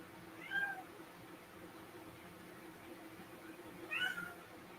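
A cat meows twice, with brief, fairly faint calls separated by several seconds of quiet room noise.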